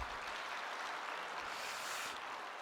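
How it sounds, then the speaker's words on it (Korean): Brief, quiet, dense applause from a church audience, a continuous hiss of many hands with no voices over it. "박수 한번 주세요."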